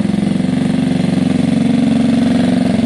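A Gilera DNA 125 motorcycle engine idles after a carburettor tune, a steady, even, rapid low thrum that stays loud and close throughout with no speech.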